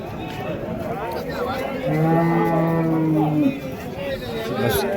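An HF (Holstein Friesian) cow gives one long, low moo close by at a cattle market, with faint background chatter and ambient noise around it.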